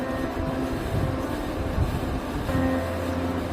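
Rumbling train interior noise on a stopping train in Kerala, steady clatter and hum of a railcar with faint squeaks, no voices.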